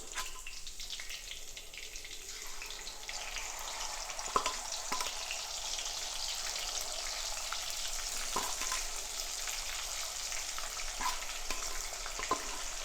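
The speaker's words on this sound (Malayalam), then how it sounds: "എണ്ണ ചൂടായി. മീനിടാം കേട്ടോ." Marinated fish frying in hot oil with curry leaves in a pan for fish pickle produces a continuous close sizzle, broken by sharp crackles and pops every few seconds, with no talking.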